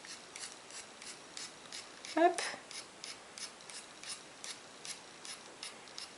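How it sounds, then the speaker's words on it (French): Scissors scrape along pastel sticks over a stencil in a run of quiet, rhythmic rasping strokes, close and soft, with a brief spoken word in the middle. "je vais venir prendre mes pastels, une paire de ciseaux et je viens gratter comme ceci."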